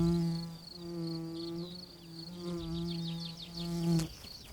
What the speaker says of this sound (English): Another flower and another kind of bee.